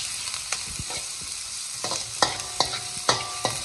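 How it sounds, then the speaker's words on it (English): Chopped shallots fry in hot oil with cumin seeds, giving a loud, close sizzle broken by sharp clacks and scrapes of a spatula stirring the pan at an irregular rhythm, with no one talking. "We will fry the shallots till it turns into golden brown."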